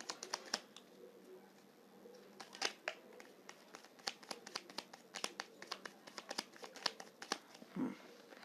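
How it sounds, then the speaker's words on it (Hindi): Tarot cards reshuffled by hand, a continuous stream of crisp clicks and papery riffles with a soft thump near the end, close and quiet, without talking. "फिर से मैं करती हूँ शफल"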